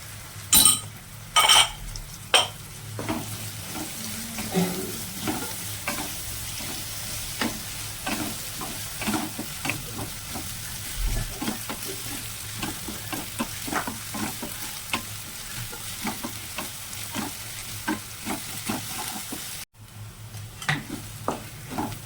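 Chopped green chillies, ginger and spices fry and sizzle in a pan while being stirred for a Gujarati green pigeon pea thotha curry, with steady sizzling and repeated scraping clinks throughout and no talking.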